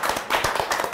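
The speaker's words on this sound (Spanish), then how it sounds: "un voto de aplauso entonces" Audience clapping at a Peruvian coaching event, a brief burst of dense, irregular hand claps close by.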